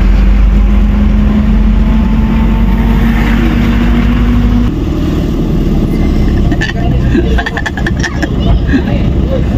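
Busy road traffic on a congested stretch about a kilometre long, with car and motorcycle engines rumbling and revving close by, loud and continuous, with people talking over it throughout.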